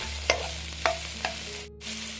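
Finely chopped carrots stir-fried over a high flame for veg schezwan fried rice, with a steady sizzle and a few sharp scraping stirs of the spatula in the pan.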